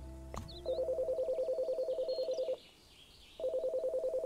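A phone in Chicory gives a click, then a steady pulsing dial tone repeats in two bursts separated by a short pause, clear and close.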